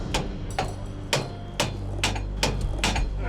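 Hammer striking the landing gear of a C-46 aircraft, a series of about seven sharp metallic blows at a steady, slightly irregular rhythm, close and loud over a low background rumble.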